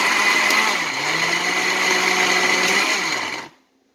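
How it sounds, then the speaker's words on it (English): Blender pureeing pickled jalapenos with stems on for restaurant-style salsa, a loud whirring motor that shifts pitch slightly as the contents churn, then winds down and stops near the end. "So let's get these pureed."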